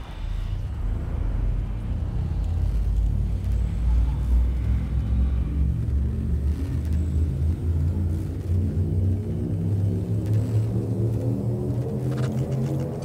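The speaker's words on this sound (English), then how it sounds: "Frameshift drive charging." In Elite Dangerous, the frameshift drive charges with a deep, steady rumbling drone that builds into rising layered tones over several seconds.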